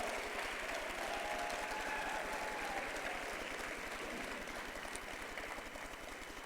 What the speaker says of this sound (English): So, Todd, I think you really need to give him a round of applause.